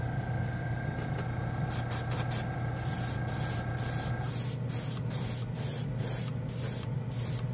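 Patriot airbrush spraying nail polish at low air pressure for scale model painting, a steady close hiss under a constant low motor hum, with short rhythmic spray bursts in the second half.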